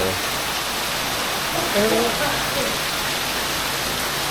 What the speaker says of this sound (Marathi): पाऊस भरपूर लागतोय